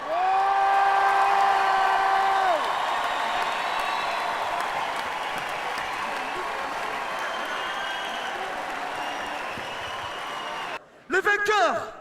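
An audience applauds and cheers for the breakdance crew Phase T at a 2009 dance-battle awards show, a sustained wash of clapping and crowd noise with a few tonal sounds near the start and a short burst of sharper sounds at the end.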